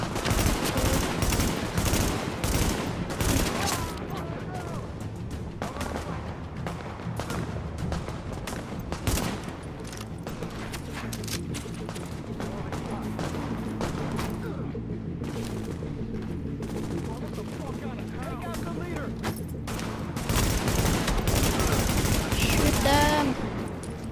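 Dense automatic gunfire and bursts from a shooter video game, Tom Clancy's The Division, fill the scene loudly and continuously, with a heavier swell near the start and end, while voices shout over the combat.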